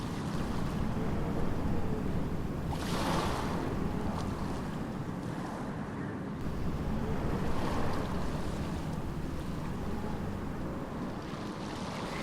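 Open water at Panihati ferry ghat on the river gives a constant broad wash of waves and wind noise with no distinct events, steady and fairly close throughout.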